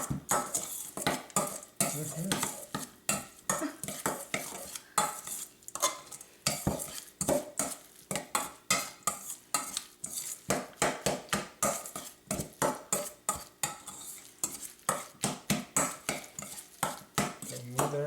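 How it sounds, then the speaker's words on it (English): Northern pike patty mixture is stirred in a bowl, producing a long series of close, rhythmic scraping and clinking strokes of a utensil against the bowl. "We're going to mix this fish around."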